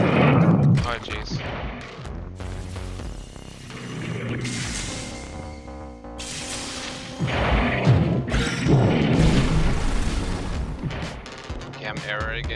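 Gunfire in the video game Eastward: repeated loud, broadband blasts and crashes over a layer of tonal game music and sound effects, with bursts clustered at the start and again past the middle.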